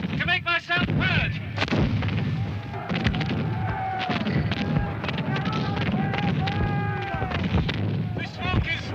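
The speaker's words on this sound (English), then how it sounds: "Cumberland's cannon. Cannonades all around me." Cannon fire booms repeatedly through a Battle of Culloden reenactment, loud dense blasts and crackling gunfire filling the field while voices shout and call out across the noise.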